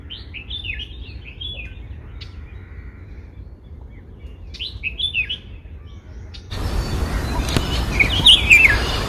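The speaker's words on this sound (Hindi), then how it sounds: "इनको भी नाइट एंगल कहा जाता है बुलबुल को" Bulbul song: bright, varied chirping phrases in several short bursts over a steady low background hum, with a louder noisy stretch near the end where the chirps continue faintly.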